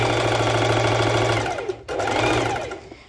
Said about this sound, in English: I have my stitch on the highest stitch length, and I'm going over.